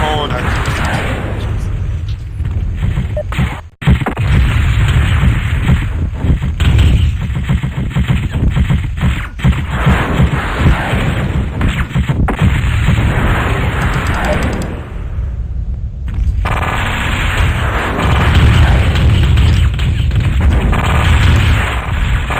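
Mech weapons firing together in the MechWarrior 2 game, heavy booming blasts and rumbling explosions that run almost continuously at high volume, with a brief drop near the start and a short lull midway.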